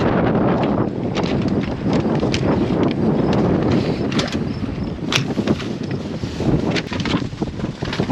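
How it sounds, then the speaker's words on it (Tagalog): Strong wind buffets the microphone in continuous gusty rumbles, with occasional sharp knocks and rattles in the background. "Mahangin."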